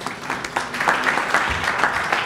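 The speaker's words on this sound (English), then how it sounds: "Nice round of applause for them." Brief applause from an audience at a mayoral event in New York, moderately loud clapping that lasts a couple of seconds.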